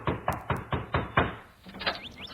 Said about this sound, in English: one day there was a knock at Helpful's door